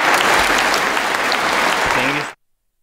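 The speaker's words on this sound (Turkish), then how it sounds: "Zelenski, konuşmasının ardından uzun süre ayakta alkışlandı." Sustained standing ovation in the US Congress after Zelensky's speech, a dense, loud wash of applause that runs steadily for about two seconds before cutting off abruptly.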